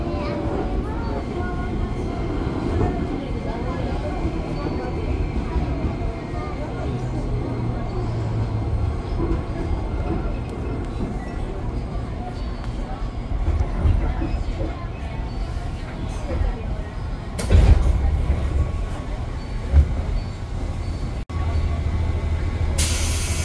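KA Pangrango economy train running from Bogor to Sukabumi, a steady close rumble and rolling hum from inside the carriage, with a few brief clanks and bumps near the end.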